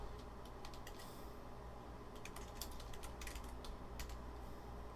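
Computer keyboard typing in quick, irregular bursts of clicks against a quiet background, fairly close and clear, with no talk over it.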